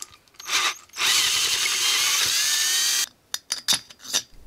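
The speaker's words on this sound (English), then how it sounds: "which is why man created drill bits" A power drill bores out a model aircraft crankcase to take larger bolts. It whines for about two seconds in one loud steady burst, with short bumps and taps of handling before and after.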